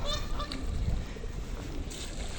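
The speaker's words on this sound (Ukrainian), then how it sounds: "Дві пари лебедів тут живуть, а там аж три лебедя." Geese-like honking from swans at a pond in Myrhorod, Ukraine, carries over a steady wash of outdoor background noise, with a few calls near the start.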